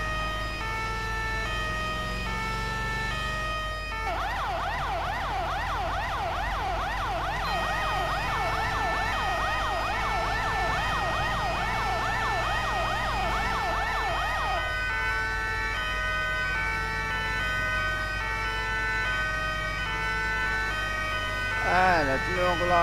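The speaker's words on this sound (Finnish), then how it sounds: "Täällä on kolme eri sireeniä, mitä pystyy huudattamaan." An emergency vehicle cycles through several siren types at a scene with fire and police crews nearby: a loud wailing sweep, then a rapid yelp, then a softer tone that fades out, all heard close.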